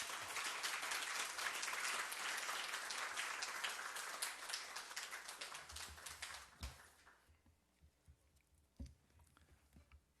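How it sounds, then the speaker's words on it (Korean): A church congregation applauds to welcome the pastor to the pulpit, a dense burst of clapping that starts strong and gradually thins and fades into scattered claps and near silence. "우리 목사님 나오실 때 따뜻한 박수로 환영해 주셨으면 좋겠습니다."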